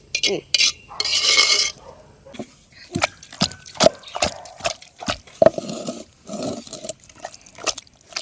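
Curry being mixed in a pot in a home village kitchen, with scattered scraping and knocking of a utensil against the pot and some liquid sloshing, interrupted by brief bursts of hiss and under occasional nearby talk.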